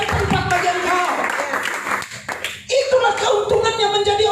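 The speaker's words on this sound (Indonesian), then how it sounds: "Beri tepuk tangan bagi Dia." A church congregation claps hands at a worship service, loud rhythmic clapping mixed with voices and music, pausing briefly midway before resuming.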